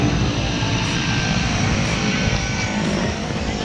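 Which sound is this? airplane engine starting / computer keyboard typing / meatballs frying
airplane engine starting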